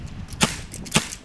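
Two sharp airsoft revolver shots about half a second apart, each punching fully through a block of Spam, loud and close with no talking.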